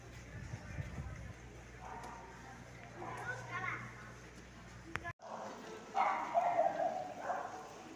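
A stray dog near the cathedral in Santiago de Compostela gives a few short barks and yips amid outdoor chatter and children's voices, with a low rumble early on and louder voices toward the end.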